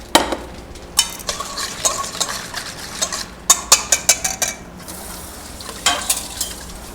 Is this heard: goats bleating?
no